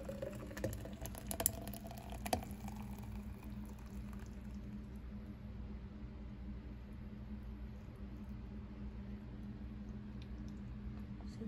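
A blended Ka'Chava protein smoothie is poured, giving soft, quiet liquid gurgling with a couple of sharper knocks early on, then a faint steady trickle with no talking.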